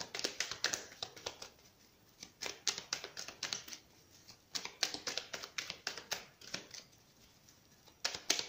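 Tarot cards shuffled by hand before a three-card spread, a run of quick crisp riffling bursts and taps in uneven clusters, close and fairly soft, with short pauses between shuffles and no talking.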